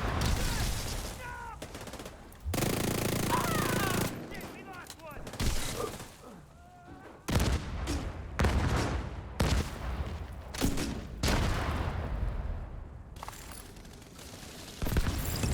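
Video game gunfire crackles in repeated bursts and fusillades, loud and close, with stretches of rapid shots broken by short pauses and occasional booms, mixed with a player talking over the action.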